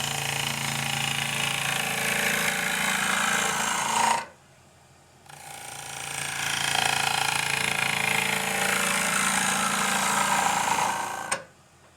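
A wood lathe spins a bowl while a small gouge turns its rim, a steady rough cutting hiss and hum that drops out briefly near the middle, then resumes and stops just before the end.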